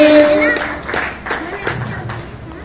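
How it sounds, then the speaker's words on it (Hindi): Audience members at a seminar applaud, a handful of spaced, distinct claps in a loose rhythm while a voice talks over them. "बहुत बहुत तालियां होनी है"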